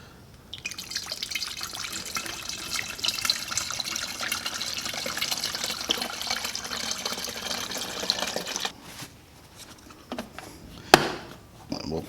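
Fluid pours steadily through a funnel into a Cub Cadet 7360SS garden tractor. A continuous close splashing trickle runs for about eight seconds, then comes a quieter stretch with a couple of sharp knocks near the end.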